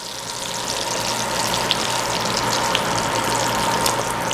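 Steaks sear in butter in a hot pan, giving a loud, steady, close sizzle that holds evenly throughout with no voices.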